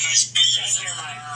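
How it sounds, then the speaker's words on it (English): A phone rings or chimes with high, bright repeating tones through a home kitchen during a Japanese-style holiday cooking stream, steady for the moment with a low electrical hum beneath and a voice speaking over it. "You can hear my phone going."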